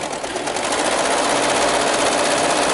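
A sewing machine runs a zigzag stitch along the inside seam of a practice skirt, a loud close continuous mechanical whir with a fast even rhythm and no talking.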